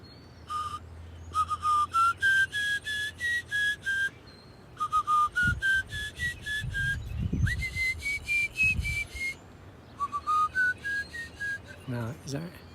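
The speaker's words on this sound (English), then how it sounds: "are you ever gonna stop whistling?" A person whistles a clear, bright tune in repeated runs of rising and falling notes with short gaps between phrases, under a faint background murmur.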